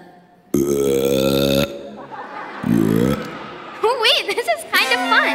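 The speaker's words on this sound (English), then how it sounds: "Wait, burping is the answer." A loud, long burp on stage in a theatre camp musical production of Willy Wonka Jr., followed by a shorter second burp, then a performer's voice and audience murmur.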